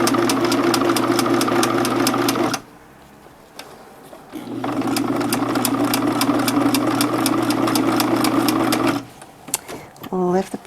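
Sewing machine stitching couch upholstery fabric, a loud, close, steady mechanical whirr that runs for a few seconds, stops briefly, then resumes for a longer stretch before a short burst at the end.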